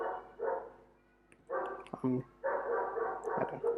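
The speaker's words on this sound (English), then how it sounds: "there are so many dogs here" Several dogs bark nearby in repeated bursts of sharp barks separated by short pauses, with a brief yip in the middle and a person talking under the barking.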